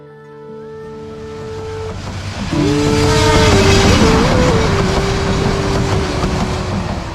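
A train, rolling past an old railway station in service since about 1890, sounds its horn in long sustained tones over a steadily building rumble of wheels and cars that swells loud and stays close.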